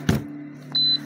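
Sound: Ryaba 100 electronic incubator beeping

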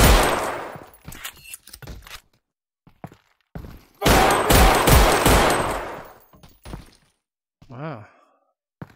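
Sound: gunfire in video game Half-Life: Alyx

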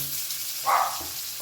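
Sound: chopped potatoes frying in oil

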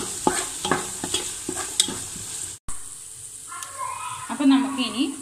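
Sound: stirring fried rice with pepper powder in a pan

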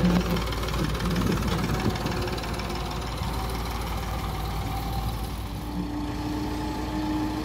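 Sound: David Brown 880 tractor engine idling

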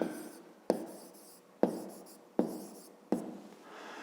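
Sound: writing on paper

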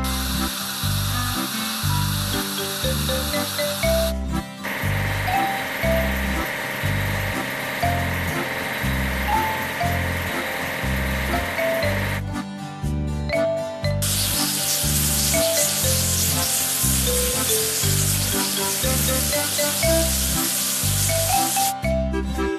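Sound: washing a sprayer truck, video game

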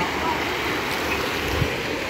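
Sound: Celegua river flowing beside a church facade

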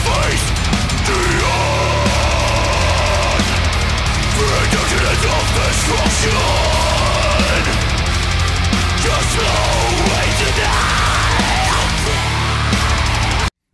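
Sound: heavy metal band with distorted guitars playing

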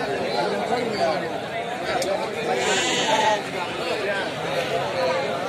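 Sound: sheep and goats bleating at a livestock market

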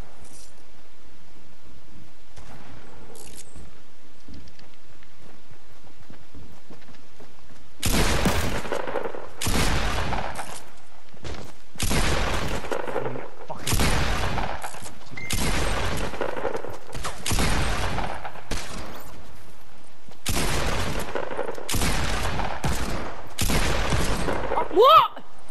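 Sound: Desert Eagle gunfire in the Fortnite video game

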